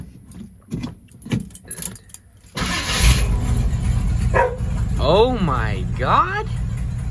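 A 1980 Ford F-150 pickup with a 351W V8 and a newly installed carburetor cranks briefly and fires up, then settles into a loud, close idle; keys jangle beforehand and someone speaks excitedly over the running engine.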